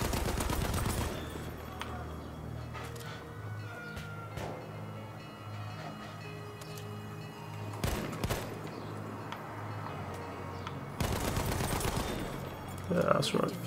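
Gunfire in Battlefield 1, sharp loud shots in separate bursts over a low steady battlefield rumble with distant pops between them.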